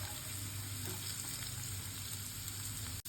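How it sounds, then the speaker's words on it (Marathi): Chopped onion and green chilli fry in a hot pan with a continuous dense sizzle and crackle, close and steady, ending in a single sharp click. "कांद्याला थोडा रेडनेस येईपर्यंत त्याला परतून घ्या."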